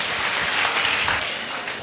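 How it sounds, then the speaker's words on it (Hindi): Audience applause at a career guidance event, a dense, steady roar of clapping that holds loud throughout and tapers slightly at the end. "एक बार जोरदार तालियां।"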